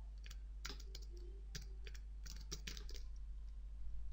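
Soft, quick keystrokes on a computer keyboard come in a light irregular run, faint and close against a steady low hum, with no voice over them.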